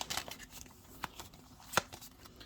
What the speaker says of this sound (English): I'm going to give it a light shuffle